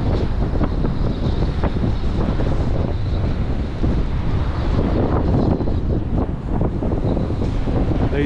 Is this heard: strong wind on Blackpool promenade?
yes